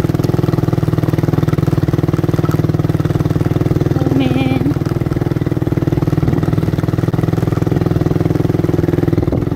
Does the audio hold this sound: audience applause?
no